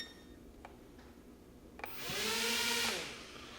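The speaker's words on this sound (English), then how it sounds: "The way you start up the rotors is you pull both the sticks down and in" Rotors of a U31W Navigator drone spin up after a few faint clicks, a loud steady whirring hum rising and holding for about a second before dying back down, with no talking.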